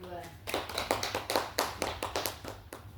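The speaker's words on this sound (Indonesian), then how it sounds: "Beri tepuk tangan untuk kelompok" A class of students claps for a presenting group in a classroom, a few scattered hand claps building into a quick, uneven round of clapping from nearby.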